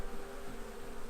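Honeybees at a hive give off a steady, dense buzzing hum that stays even and unbroken across the brief moment.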